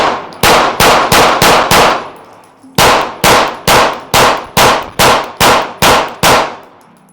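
Compact pistols, a Glock 43x, Sig P365XL and Hellcat Pro, fire at an outdoor range: a quick string of five loud, sharp shots, a short pause, then nine more evenly spaced cracks, each ringing briefly.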